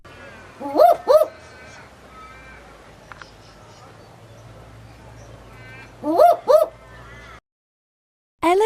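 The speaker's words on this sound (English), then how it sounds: "owl." Two bursts of a double-note owl hoot, close and clear, sound separately with a quiet gap between them, followed by a short silence and the start of another call at the end.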